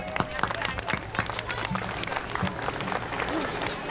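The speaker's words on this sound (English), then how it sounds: "Let's give her a round of applause" Audience applause at an outdoor National Night Out community event, a crowd clapping with sharp scattered claps over general hubbub and background chatter.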